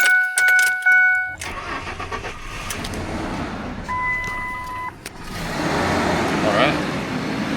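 Truck engine cranks and catches, then settles into a steady idle rumble close by, with a few beeps and brief talk near the start.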